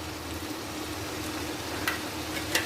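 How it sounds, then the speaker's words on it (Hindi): Spices sizzle steadily in a hot pan for an egg and onion curry, a dense, even frying hiss with a couple of brief louder crackles near the end and no voices. "और हमने इसको अच्छा सा भून लेना है सारे स्पाइसेस को।"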